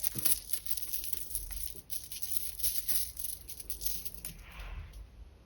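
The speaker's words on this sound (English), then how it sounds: "shuffle them a bit." Zodiac cards shuffled after being picked from a little bag, a close, continuous crinkly rustle and rattle of handled cards with no talking.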